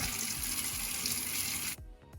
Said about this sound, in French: C'est l'heure de la douche.